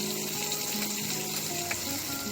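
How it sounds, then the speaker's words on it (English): Onions sizzling in a hot pan in a small truck kitchen, a steady close crackle and hiss running evenly throughout, with no voices. "I'm going to throw in the onions."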